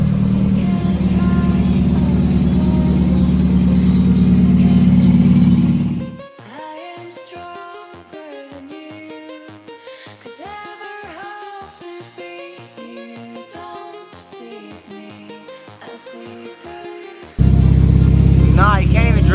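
A cheap Mazda Miata's engine runs loud and close for several seconds, then cuts to a stretch of music-like tones before the engine noise returns abruptly at the end.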